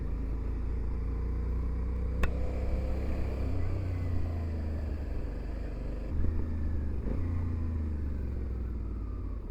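A motorcycle being ridden in the morning around Capbreton gives a steady, close engine drone with low rumble and wind noise that continues without a break.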